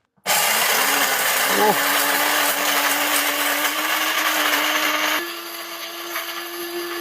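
An electric grinder grinding lentils, a loud steady whirring motor with gritty rattling of the grains, running continuously for several seconds before the pitch shifts slightly lower near the end.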